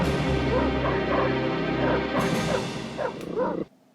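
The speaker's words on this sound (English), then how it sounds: "That dog barking his head off constantly." Dog barking in the Chicken Run video game, a steady run of repeated barks and yips over a continuous game soundtrack, close and loud before cutting off abruptly.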